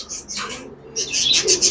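King pigeons in a bird shop give soft chirps and coos in two short bursts with a brief gap between, fairly close and with no talk.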